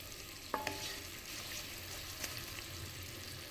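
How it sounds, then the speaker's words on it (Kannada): Jaggery melts in a pan without water while a spoon stirs it for festival laddu: a soft, low hiss with a few light scrapes and taps of the spoon, faint and close, with no talking. "ಹೀಗೆ ಬೆಲ್ಲ ಕರಗಿದರೆ ಸಾಕು."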